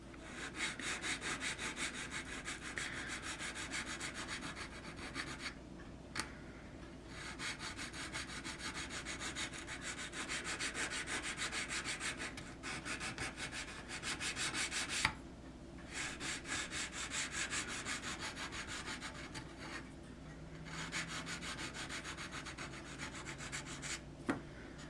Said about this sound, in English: I'm going to use my medium sanding stick here.